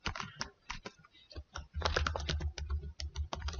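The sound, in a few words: typing on a computer keyboard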